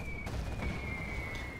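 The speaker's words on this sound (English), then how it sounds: "Carpet bombing coming in." Carpet bombing in the real-time strategy game Command & Conquer: Generals Zero Hour: a dense, continuous rumble of explosions with a steady high aircraft whine running through it.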